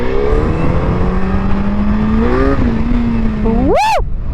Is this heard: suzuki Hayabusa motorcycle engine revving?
yes